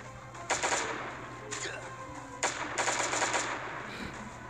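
Automatic gunfire in the survival game Last Day on Earth, with several sharp bursts of rapid shots over a steady game background and no speech.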